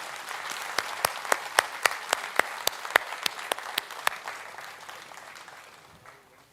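Audience applause for Professor Ganesh at a felicitation event for Padma awardees, a steady wash of many hands clapping with a few sharp, louder claps standing out near the front, then fading away to near silence by the end.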